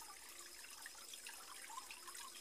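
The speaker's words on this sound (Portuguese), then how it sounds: "Olha o barulho da água, você aí, ó." Water trickles gently in a small backyard pond at night, a faint, steady babble with light splashy detail and no voices.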